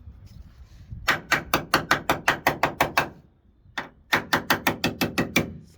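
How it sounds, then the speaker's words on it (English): Rapid, sharp metallic taps from a small hammer on the passenger door frame metal of a Ford Cortina MK4, in two quick bursts of about a dozen strikes each, close and crisp. "if I get my little hammer"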